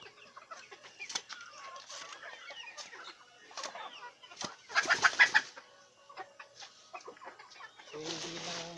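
Chickens cluck and squawk while being fed earthworms, scattered soft clucks rising to a louder burst of squawking and wing flapping midway, with a voice heard near the end.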